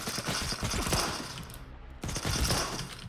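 Rapid bursts of Rhino gunfire in Stalker 2, fired with base ammo, crack loudly in two clusters of closely spaced shots separated by a brief lull, with mechanical clatter between rounds.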